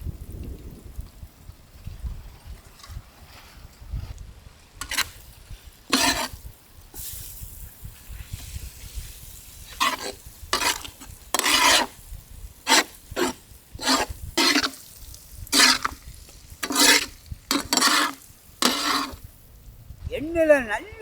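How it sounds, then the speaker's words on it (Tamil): Masala sizzles and scrapes in hot oil in a village outdoor kitchen, with repeated rasping stirs in irregular bursts against a low crackle, while someone speaks intermittently over the cooking. "இந்த எண்ணெயில் போட்டு மசாலாவை நல்லா வதக்கிடணுமுக்கா"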